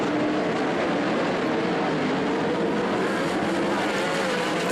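Race cars lapping Skagit Speedway on opening day, a short track with 12 to 13 second laps, make a continuous dense engine roar that stays loud and steady throughout, with crowd and track noise blended in.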